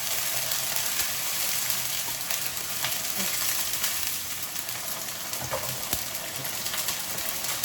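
Barilla Bolognese sauce poured into a pot of hot, fragrant garlic, giving a steady close sizzle and crackle of frying that runs without pause and with no one talking.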